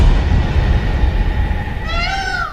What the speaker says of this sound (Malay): Abang dengar tak bunyi kucing?